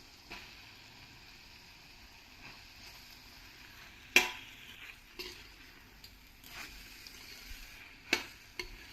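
Soaked puffed rice stirred through cooked tomato in a pan, with quiet frying sizzle and a few sharper scrapes and taps of the spoon against the pan, spaced several seconds apart.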